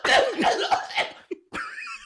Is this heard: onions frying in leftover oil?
no